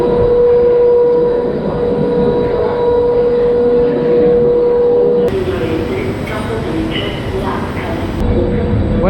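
A train to Messina at Palermo Centrale station rumbles loudly and continuously with a steady high tone, a near, heavy rolling sound with a shift midway as a voice talks over it.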